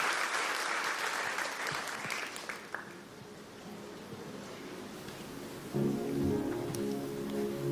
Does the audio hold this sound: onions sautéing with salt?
no